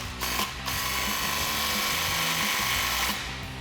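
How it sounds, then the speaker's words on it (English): An impact wrench with a 14 mm socket drives the U-bolts tight on a Jeep Gladiator JT steering install, giving a loud, close, continuous rattling hammer with short pauses between bursts. "We'll tighten our U-bolts down with our 14 mil socket and our impact."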